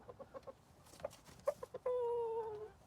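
A fighting rooster makes a series of soft, quiet clucks, then lets out a longer drawn-out call, close by in an otherwise calm setting.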